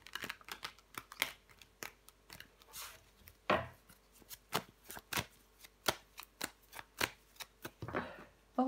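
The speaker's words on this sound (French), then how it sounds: "Allez, on recouvre des cartes." Tarot cards slid, laid down and covered on a table, a rapid series of soft, close flicks and taps in an irregular rhythm with no talk.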